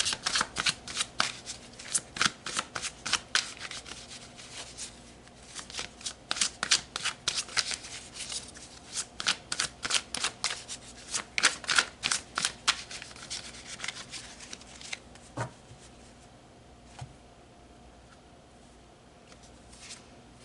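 A deck of tarot cards is shuffled close up in repeated quick riffles and rubs, forming bursts of crisp flutters that later thin into softer sliding. No one speaks.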